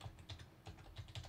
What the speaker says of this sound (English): let me just type this in here real quick